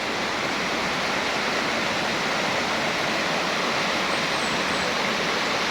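Floodwater in a river pours past in a constant, loud rushing roar, steady and unbroken, close by with no voices over it.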